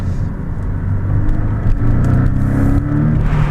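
A 2016 Porsche 718 Boxster S with a turbocharged flat-four engine runs with a loud, rumbling drone that swells slightly as it revs, close and steady with no talk.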